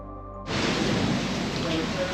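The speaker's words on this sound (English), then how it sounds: "It's just a pity that it's raining though" Heavy rain pours down in the bush during a thunderstorm, beginning with a sudden rush and then holding as a dense, steady, close roar of falling water.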